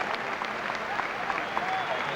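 Soft, distant applause from a football crowd at a 2002 Southport versus Notts County match, greeting a substitute, steady and muted with scattered individual claps.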